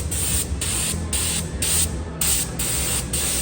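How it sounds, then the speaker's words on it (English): Aerosol spray hissing onto a car's wheel chuck in repeated loud bursts, about seven short blasts with brief gaps between them, close and alone. "Spraying of the wheel chuck."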